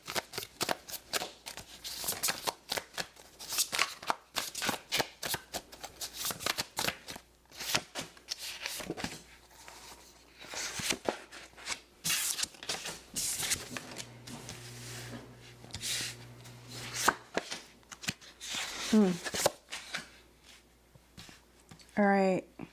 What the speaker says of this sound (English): sorry it took so long to shuffle. These are huge cards.